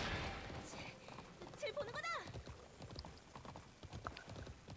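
A horse cantering in the video game Alicia Online, hooves clip-clopping in a steady rhythm under a whinny and someone talking over it.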